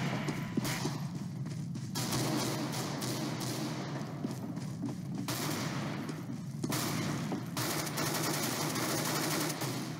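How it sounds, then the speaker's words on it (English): Continuous rapid gunfire from a CS:GO match rattles nearly without pause, dense and steady, with busy game noise around it and a few shifts in intensity. "I'm shooting these guys!"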